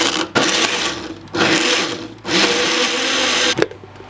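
A countertop blender pulses broccoli soup under a lid held down with a towel, a loud whirring motor in three or four short bursts separated by brief gaps, with a clunk near the end; no talking.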